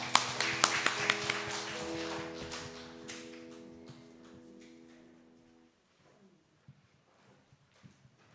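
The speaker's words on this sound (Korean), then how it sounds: "다 같이 박수 3번 하나님께 한번 돌리겠습니다" Church congregation at a Sunday service clapping, a burst of sharp claps over sustained organ-like tones that fade out, followed by a few scattered taps in near quiet.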